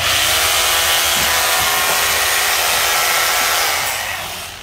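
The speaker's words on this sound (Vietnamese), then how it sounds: "Đây là một cái đục ba chức năng HR2611F" A Makita HR2611F three-function rotary hammer, 800 W, runs with a loud, steady motor whine close by, then begins to wind down near the end.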